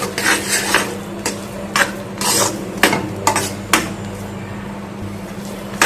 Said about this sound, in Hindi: तब तक चलाएंगे तब तक ये चाशनी अच्छे तरीके से बूंदी सोख ना जाए